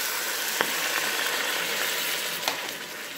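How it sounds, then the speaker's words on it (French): A pan of osso buco forestier sizzles loudly and steadily as white wine is poured in to deglaze, a dense hiss with a couple of small pops. "je vais déglacer avec le vin blanc"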